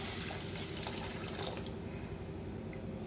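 Tamarind water and rice-washing water are poured into a Nagapattinam-style fish curry in a pot, making a steady, continuous splashing pour that runs throughout at a close, moderate level.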